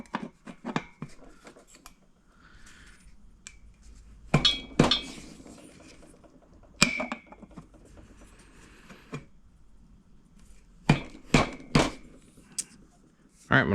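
Metal parts clink and knock while a clutch cover is fitted to a Vespa Rally 200 engine during a rebuild, scattered sharp close taps in small bursts between quiet stretches, with faint low speech.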